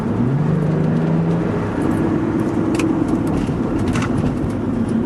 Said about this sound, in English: A lot of rough road right in here.